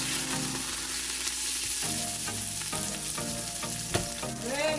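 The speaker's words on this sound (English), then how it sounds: "I'm going to add my garlic and my onions." Garlic and red onions sizzle and fry in a pot on a stove turned down low for a hearty soup, with steady loud crackling and a few stirring scrapes throughout.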